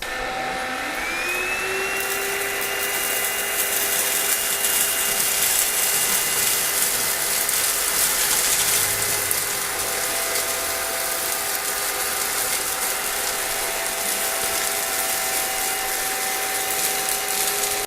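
A BlitzWolf cordless handheld vacuum runs on its low setting over a tile floor, giving a steady whining motor hum with a high airflow hiss that holds close and even throughout, briefly rising in pitch at the start.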